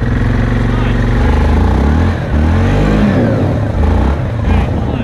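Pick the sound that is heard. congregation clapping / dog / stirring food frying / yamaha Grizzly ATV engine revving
yamaha Grizzly ATV engine revving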